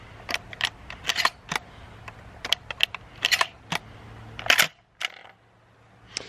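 Twelve-gauge shells pushed one after another into the extended magazine tube of an autoloader shotgun, a Remington 1100-style gun, giving a string of sharp metallic clicks and clacks close up with no talking.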